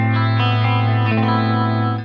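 Chorus effect on a Fender Champion 50XL guitar amp, a shimmering doubled guitar tone with steady sustained harmonics, loud and close, ringing alone without talk.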